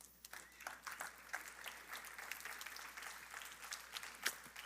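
Congregation applause in a church during a Sunday service, a steady faint patter of many hands clapping with a few louder claps and some voices mixed in.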